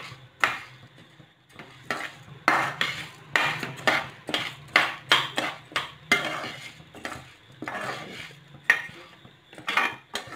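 Ingredients for idli podi are dry-roasted in a metal pan, with a spatula scraping and clattering against it in quick, repeated strokes over a faint background hiss.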